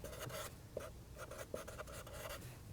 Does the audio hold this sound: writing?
yes